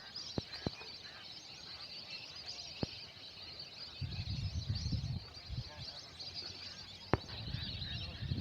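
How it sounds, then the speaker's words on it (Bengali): A large flock of migratory birds calls over the Alta Dighi lake, a dense, constant chatter of honking and cackling voices, with a few sharp knocks and a louder low burst of calls midway. "শুধু পাখির কোলাহলে মুখরিত যেই দিঘি"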